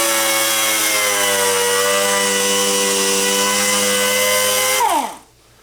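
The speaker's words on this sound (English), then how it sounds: "sanding, making sure everything's all smooth" A loud power sander on wood for a loft bed whines at a steady pitch for several seconds, then spins down abruptly and stops, leaving near silence.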